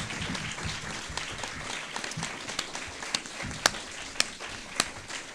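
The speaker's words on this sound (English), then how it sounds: "Can we give a round of applause to your candidates?" An audience at a candidate forum claps for the candidates, a quiet, somewhat distant wash of applause that thins into a few sharp separate claps toward the end.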